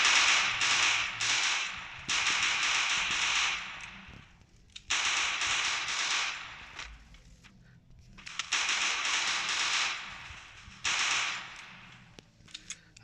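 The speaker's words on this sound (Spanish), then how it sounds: "Y creo que ya empezaron ahí los tiros." Bursts of video game gunfire come in three long volleys of rapid sharp cracks, each lasting a couple of seconds with quieter gaps between, followed by a few scattered single shots near the end.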